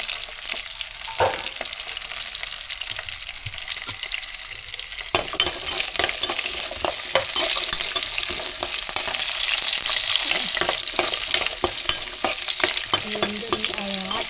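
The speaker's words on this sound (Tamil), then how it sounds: "சின்ன வெங்காயம் வச்சுருக்கிறேன் கூட பூண்டு எல்லாம் போட்டாச்சு இப்போ வணக்கிட்டுருங்க" Small onions and garlic sautéing in a pan for mutton curry give a steady close sizzle with stirring scrapes and clinks, growing louder and denser about a third of the way in, with no talk.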